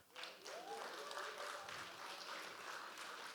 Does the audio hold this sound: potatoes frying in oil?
no